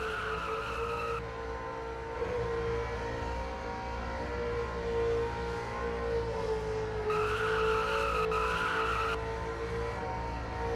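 A race car does donuts at Daytona, its engine droning with a sustained, wavering tire squeal that holds through the clip and swells again near the end, heard at a moderate distance.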